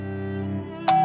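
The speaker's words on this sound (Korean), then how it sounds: "다시 초인종을 눌렀습니다." An apartment doorbell rings with a sustained electronic chime tone that fades, then a sharp bright ding strikes near the end, loud and close, with no voices.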